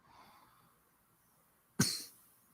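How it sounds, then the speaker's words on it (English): A single short cough bursts out, close and fairly loud, after a quiet stretch of faint background murmur. "Who's coughing?"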